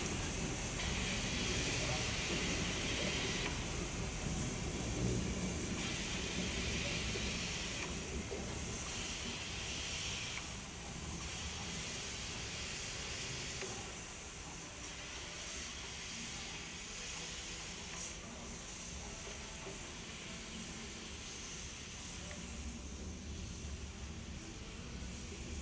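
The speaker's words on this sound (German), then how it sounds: "Es ist für das Filmteam eine kurze Vorbeifahrt an der Strecke, aber ein großer Schritt im Leben der frisch aufgearbeiteten Dampflok" A freshly restored steam locomotive runs on the open line with a brake locomotive in tow, producing a continuous broad roar and hiss that rises and eases slightly as it passes, sustained throughout.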